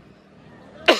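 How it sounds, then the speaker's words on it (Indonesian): One abrupt, loud cough at the end of a quiet stretch of room tone, brief and close. "Batuk dulu."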